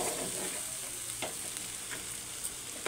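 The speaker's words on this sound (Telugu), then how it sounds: "ఇలా మాడంటకుండా కలుపుకోవాలి." Mutton fry being stirred in a pan to keep it from sticking and burning, a continuous close sizzle with occasional scraping strokes from a spatula, no talking.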